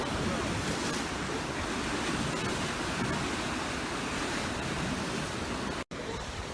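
Atlantic Ocean waves crash against granite rocks in a steady, loud roar of surf with constant wind-blown wash, close and unbroken.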